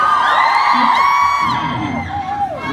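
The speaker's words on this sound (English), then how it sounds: "You're applauding yourself, that's good." A concert crowd at a show, loud cheering, whooping and yelling, with high shouted voices rising and falling across the crowd and fading slightly toward the end.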